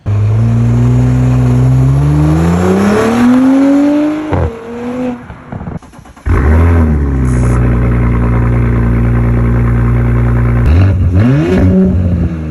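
An Audi car engine revs hard, its pitch climbing and falling through several loud surges, with a brief drop-off before roaring back up near the microphone.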